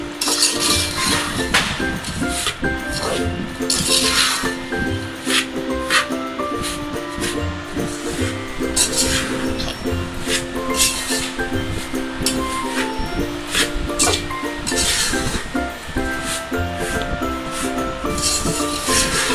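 A spoon stirs and mixes ingredients in a bowl, scraping and clinking steadily against the sides with repeated rhythmic strokes, over a faint background hum.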